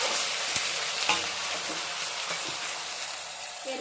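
Onion paste stirred and frying in a pan for chicken kosha, a steady close hiss of sizzling oil with occasional soft scraping strokes, no talking.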